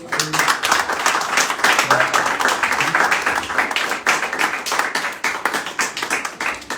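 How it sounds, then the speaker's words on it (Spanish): A crowd at a church service clapping in a dense, continuous burst of applause, close and lively for several seconds. "Démosle un aplauso al Señor."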